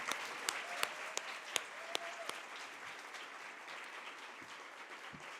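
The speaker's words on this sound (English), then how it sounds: "One more round of applause for them." Audience applause for a panel of speakers and their host at a Columbus Metropolitan Club event, a dense wash of clapping with a few sharp claps standing out early, sustained at steady loudness throughout.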